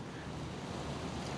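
Steady wind buffeting the microphone at the Ocean City Inlet in Maryland, with surf washing underneath in a continuous, close rumbling roar and no voices.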